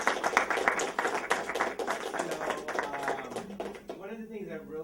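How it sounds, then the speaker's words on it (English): Lecture audience applauds after a talk on LGBTQ refugees and US immigration policy, a few seconds of scattered clapping that thins out, followed by a voice speaking. "can we give a big round of applause?"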